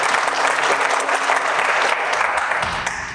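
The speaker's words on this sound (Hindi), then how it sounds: "जोरदार ताली" Loud, dense applause from an audience at a Hindi talk on the history of the Bharatiya Janata Party, steady clapping that carries on for about three seconds and eases slightly at the end.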